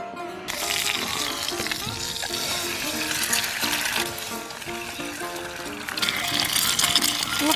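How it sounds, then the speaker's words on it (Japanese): Whole sausages frying in a pan at a campsite, a continuous crackling sizzle close up that swells louder toward the end. "じゃあソーセージをさ、丸ごと焼いていきます"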